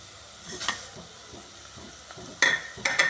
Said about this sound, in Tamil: பூண்டு பல் எடுத்து தட்டி வச்சேன் அதையும் இதோடு சேர்த்து நல்லா வதக்கிடுவேன்